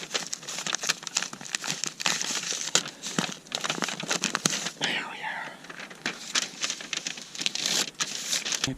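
Backing crinkles and tears away from window flashing tape during an off-grid cabin window install, a loud, close, continuous crackling rustle with brief pauses.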